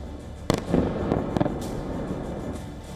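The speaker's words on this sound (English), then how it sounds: "4 Russian missiles slammed into targets in less than a minute." Russian missiles strike Kyiv's Golosivsky district in a few sharp, booming blasts, with one main crack followed by smaller thuds, over a constant rumbling background heard from some distance.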